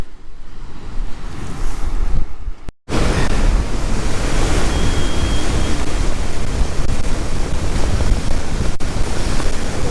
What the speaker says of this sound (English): the wind is absolutely horrendous